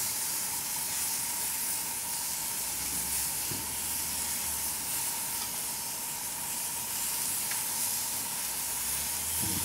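Onions, eggplant and other vegetables sizzle on a grill turned up as hot as it goes, a steady close hiss with a couple of faint knocks.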